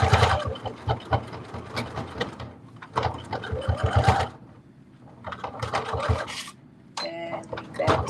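A sewing machine stitches and backstitches slipper fabric in short, rapid mechanical bursts with brief pauses between runs, close and clear, ending with a quick click and beep.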